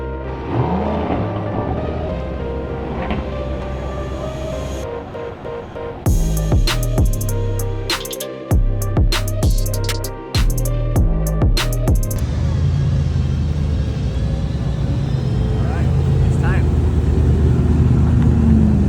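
An Aston Martin V12 Speedster climbs a hill with a loud, deep rumbling V12 engine. Sharp gear changes and revving bursts run through the middle, and a steady strong drone follows. Voices are heard at times under the engine noise.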